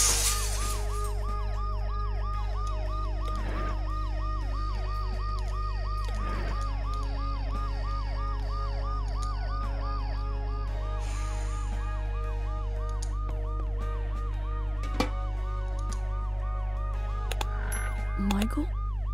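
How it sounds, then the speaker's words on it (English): Ambulance siren inside the video game Dead Synchronicity, a steady wailing tone that sweeps up and down in regular cycles over a constant low hum, loud and continuous, with a brief higher squeal near the end. "The noise the ambulance makes will cover the sound of the glass breaking."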